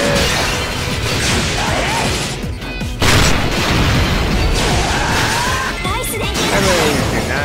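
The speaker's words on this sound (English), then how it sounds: "I really do not understand those explosions." Explosions in the video game SAO re:fragment come as repeated booming crashes and bursts with swooshing effects, loud and dense throughout, and one sharper blast near the middle.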